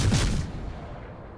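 Naval guns fire at a fort during a World of Warships match, one heavy broadband boom at the start that rolls off into a fading low rumble.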